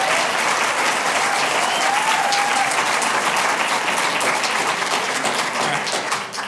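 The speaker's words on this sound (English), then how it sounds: "we're not going to do applause tonight" Sustained applause from an audience at a city council meeting, dense and steady clapping filling the room throughout with some crowd murmur underneath.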